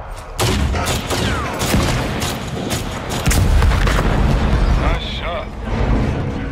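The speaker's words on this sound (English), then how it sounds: "Hit the sniper with the RPG" A loud RPG rocket explosion booms amid rattling gunfire in the CrossfireX campaign, with heavy blasts close by and voices talking over the combat.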